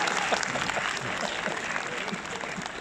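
An audience applauds at a film premiere in Orléans for Super-héros malgré lui, a dense, steady clapping from a crowd that continues evenly throughout.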